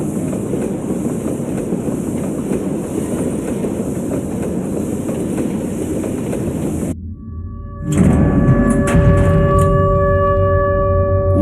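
A train rolls along rails in the Garten of Banban 8 video game, a loud steady rumble with rattling wheels that cuts out abruptly, then a brief hush gives way to a lower hum and high ringing tones as it stops.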